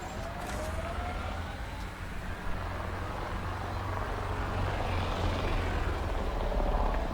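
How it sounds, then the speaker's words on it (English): A military aircraft passes over a base in the video game Mass Effect Andromeda, a steady, loud, rumbling engine drone that swells slightly as it continues, with no talking. "I'm hearing aircraft, but I'm not seeing any"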